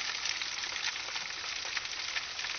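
Steady crackling sizzle of pork roasts (Boston butts) cooking on a smoker, close and continuous, with bursts of popping fat and no voices.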